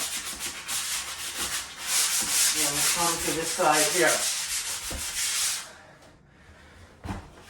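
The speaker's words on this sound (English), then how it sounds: "so that is my sanding here" Close, rhythmic scraping of sandpaper rubbing over drywall joint compound on a wall repair for several seconds, then it fades and stops; someone speaks briefly during the sanding.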